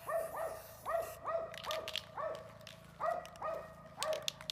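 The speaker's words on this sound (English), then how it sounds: "The crazy dog is barking at the rooster and the chickens." A dog barks repeatedly in quick pairs and short bursts at a rooster and chickens, somewhat distant, with a steady low hum in the background.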